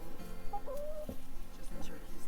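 Turkeys at a petting zoo give a few short clucking calls, close but faint, over a low murmur of background noise.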